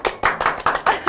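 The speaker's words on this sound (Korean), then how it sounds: "박수!" A few people clapping in a bright, close burst on a Korean live studio show with a two-person promo planning team: about six sharp, rhythmic claps in quick succession.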